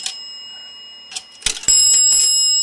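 A dime clatters down through a small plastic toy payphone mechanism with quick clicks, then a bright bell chime rings out and holds steadily.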